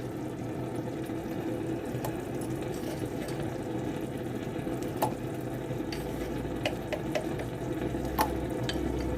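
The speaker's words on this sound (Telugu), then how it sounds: "సరసరా మరుగుతున్నాయి కదండి వాటర్" Water for biryani rice boils hard in a pot, a steady bubbling, sizzling rush with occasional sharper pops and clinks, close and continuous.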